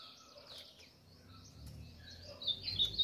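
A tico-tico, or rufous-collared sparrow, sings in a series of faint, high, thin chirps and short trilled phrases with no voices. The song grows a little louder and busier toward the end, over a low background rumble.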